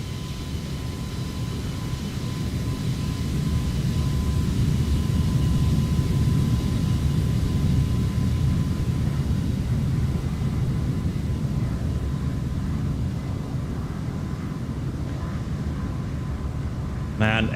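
An aircraft flyby in the X-Plane 12 flight simulator, with a Toliss A320neo airliner: a loud, steady broadband engine roar that holds for the whole stretch, with a faint thin tone running beneath it.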